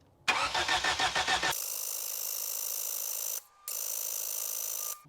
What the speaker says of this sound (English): I'm just gonna go ahead and I'm gonna jump the starter relay